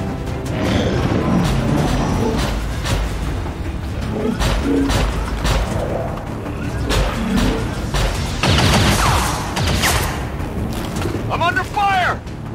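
Video game combat with repeated gunshots and heavy impacts, loud bursts scattered across the stretch with crashes and booms under a player's shouted voice.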